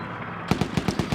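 A .50 cal machine gun in a WW2 video game fires a quick burst of about seven evenly spaced heavy shots, loud and close after a brief quiet start.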